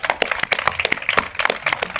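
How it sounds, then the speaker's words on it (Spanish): An audience at a debate on Hispanidad claps for the guests: brisk, dense applause with sharp, irregular hand claps that carry on steadily throughout, no voices on top. "un aplauso para todos los demás"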